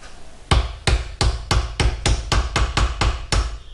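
Eleven evenly spaced sharp hammer taps, seating a part on an old rusty drill press being restored, close and clear with no talking.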